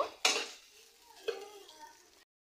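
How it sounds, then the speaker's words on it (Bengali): Minced chicken being mixed with a flour paste in a bowl: a couple of soft clinks and scrapes of a utensil against the bowl, faint and brief in a quiet room. "এখন আবারও খুব ভালো করে মিশিয়ে নিব"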